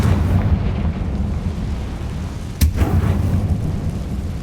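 Rumbling, heavy low-end blast noise from the Confringo fire spell in Hogwarts Legacy fills the scene continuously, with one sudden sharp crack partway through. No voices are heard.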